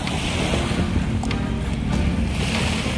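Continuous rushing sea waves on Manila Bay at Dolomite Beach with wind buffeting the microphone, a steady loud wash of surf with no talking.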